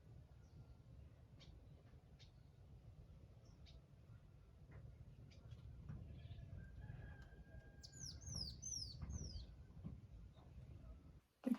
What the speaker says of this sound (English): So much bird activity going on in the morning.